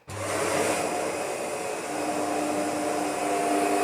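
A Shark DuoClean NV801UK-T upright vacuum cleaner, refurbished, switches on and runs with a steady loud whirring roar, close by and alone.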